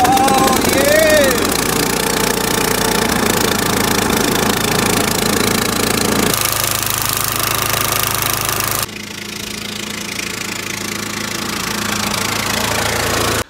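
Cub Cadet riding mower engine running right after starting, a loud, close, steady knocking idle with a voice briefly audible early on, then a drop in level as the running continues.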